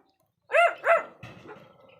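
A dog gives two sharp, loud barks close by, followed by a brief scuffling rustle.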